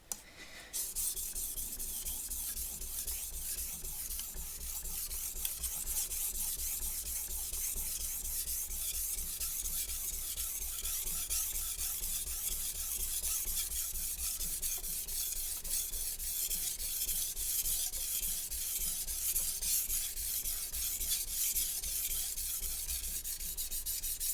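A Santoku knife drawn by hand across a sharpening stone gives a steady, continuous close-up rasping rub that holds the same level for the whole stretch, with no talking over it.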